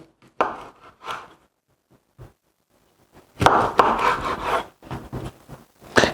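A knife cuts sausage into half-slices about half a centimetre thick on a board, giving a few separate close knocks and then a longer burst of rapid chopping, with no voices.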